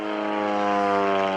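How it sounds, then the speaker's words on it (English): A Bellanca Extreme Decathlon aerobatic airplane drones with a steady, loud propeller-engine roar overhead at an airshow, the tone holding even without a break. "he can really use that 30 extra horsepower with his airplane"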